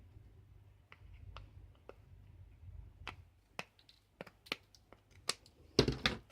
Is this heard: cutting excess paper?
yes